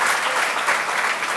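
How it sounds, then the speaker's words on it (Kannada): A hall audience gives loud, dense, continuous applause to welcome a speaker at a stage event. The clapping is close and sustained throughout. "ಇನ್ನೊಮ್ಮೆ ಜೋರಾಗಿ ಚಪ್ಪಾಳೆಯೊಂದಿಗೆ"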